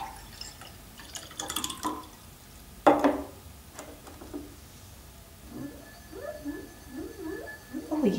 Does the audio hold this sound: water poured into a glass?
yes